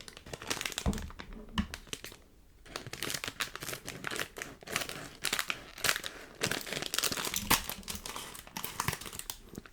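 Packaging holding items from Japan is cut open at close range, with crinkling, crumpling plastic and brief tearing and crunching bursts carrying on almost without pause, a short quieter gap partway through.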